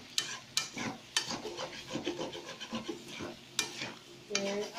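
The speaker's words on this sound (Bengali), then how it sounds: "গরম মশলাটা ভাজা হবে এখন" Garam masala fries in a pan for a mutton curry, with soft sizzling under repeated scraping and stirring strokes of a spatula against the pan, quiet and close with a few sharper knocks.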